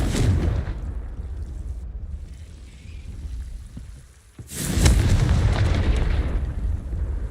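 Confringo blasting spell explosion in a Harry Potter video game, a loud booming burst with rumbling debris that fades, then a second sharp blast that settles into a sustained crackling roar.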